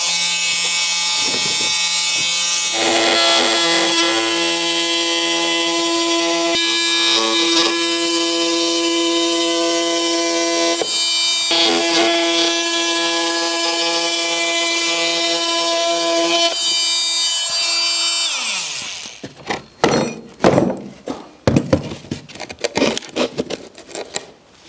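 A multi-tool with a wood blade cuts through a piece of wood, marking a socket back box opening; a loud, steady buzzing drone runs for about eighteen seconds, then ends in irregular clattering and knocks.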